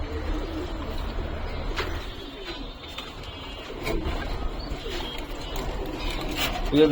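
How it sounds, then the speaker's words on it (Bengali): Pigeons coo softly and repeatedly nearby, a low continuous burbling with occasional faint chirps and a steady background murmur. "আমার বাড়ির অনেক পুরান কবুতর"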